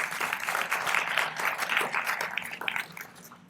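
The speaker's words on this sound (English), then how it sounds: "let's give him a round of applause" Banquet guests at a Kiwanis Club installation and awards dinner give a moderate round of scattered applause that fluctuates and tapers off toward the end.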